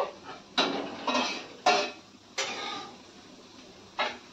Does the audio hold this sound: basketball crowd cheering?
no